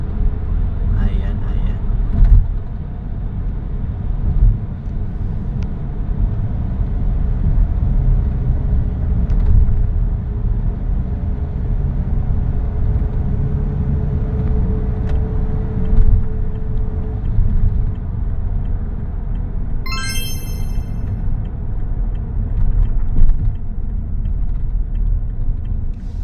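Road traffic in Ulan, Sorsogon, heard from inside a moving car as a steady low engine and road rumble, with a brief high chirp near the end and background talk over it.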